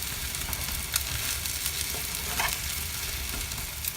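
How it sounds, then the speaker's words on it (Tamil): A bread omelette sizzles steadily in a hot pan after being flipped, with constant frying crackle and occasional louder pops, close and with no talking. "திருப்பி போட்டுட்டு அப்படியே பொரிய விடுவோம்"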